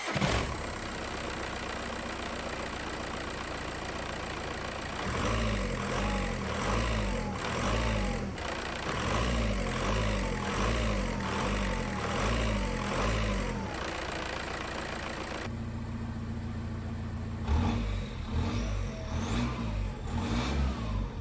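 A 1.9 TDI diesel engine in a 19-year-old Seat Ibiza cranks and then settles into a steady, loud diesel idle with rhythmic low pulsing, with a brief rise in revs near the end.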